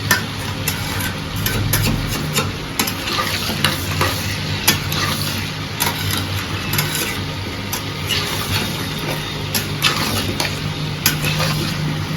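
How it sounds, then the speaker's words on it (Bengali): Potatoes and pointed gourd with turmeric fry in a pan, giving a loud, steady close sizzle broken by repeated scraping strokes of a spoon stirring against the pan, with no voices. "এটা এখন ফ্রাই হতে 15 মিনিট দিতে হবে"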